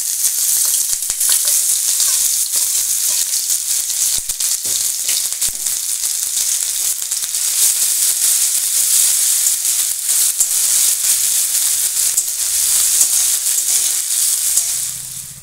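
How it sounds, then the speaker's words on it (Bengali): Spices, grated ginger and green chilli sizzle steadily in hot oil in a pan while kachori filling is being prepared, a loud, continuous frying hiss with no talking. "তেলে দিচ্ছি জিরে, দিয়ে দিচ্ছি একটু হিং।"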